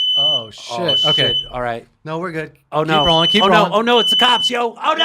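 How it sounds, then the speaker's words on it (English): A smoke alarm in a studio sounds a high, steady electronic tone in repeated stretches behind close, loud, agitated talk. "That's a smoke alarm in the background"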